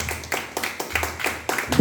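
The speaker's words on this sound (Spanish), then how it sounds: "Denle un fuerte aplauso a Jesucristo, por favor." A church congregation at a Christian baptism service claps in a quick, steady rhythm, sharp repeated hand claps close by with a faint voice mixed in.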